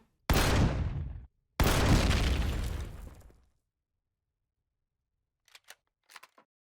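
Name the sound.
sniper rifle shots in the video game Empyrion Galactic Survival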